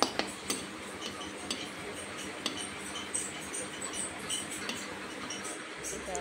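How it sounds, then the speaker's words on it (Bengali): Flour smiley biscuits frying in a pan of oil, a steady dense sizzle and crackle running throughout with a few light clinks of a utensil against the pan. "তো আমি এভাবে সমস্ত বিস্কুটগুলা ভাজি করে নেব।"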